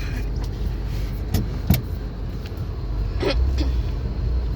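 A car driving on a snowy road gives a steady, close rumble of road and engine noise, with a few brief clicks and knocks from inside the vehicle.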